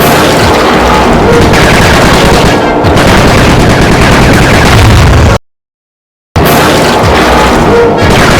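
Heavy, continuous gunfire as Bentley shoots in the game Sly 3: Honor Among Thieves, loud booming bursts filling the whole stretch, broken by a brief silent gap before the firing resumes.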